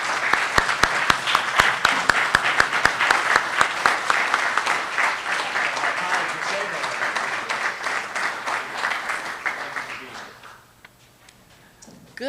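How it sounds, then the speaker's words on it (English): Audience at a Veterans Day ceremony in the Township of Union breaks into a long, dense round of applause from many hands, loud and sustained for about ten seconds before fading into near quiet. "Let's have a nice round of applause for her."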